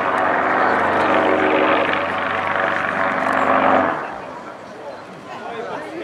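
A loud, steady propeller engine roar drones close by from a piston-engined aircraft hanging almost still like a helicopter at an air show, then cuts off abruptly, leaving quieter background noise.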